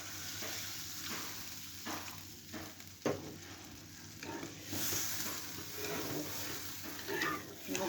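Tamarind pulp and a splash of water hitting hot oil tempering in a pan for a small-fish chutney, giving a steady close sizzle and bubbling hiss with occasional stirring scrapes throughout.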